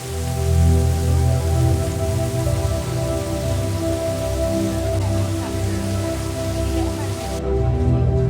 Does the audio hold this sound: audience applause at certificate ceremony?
no